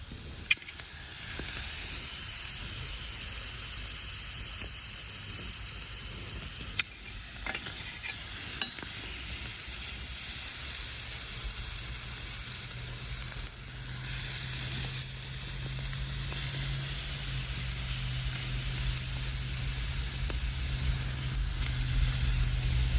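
Food sizzles steadily on a hot stone inside an outdoor stone oven, a continuous close hiss with a few sharp clicks and scrapes, and no talking.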